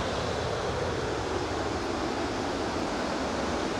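Tahquamenon Falls roaring as a large volume of water rushes over the drop, a loud, dense, unbroken wash of noise heard from nearby with no talking.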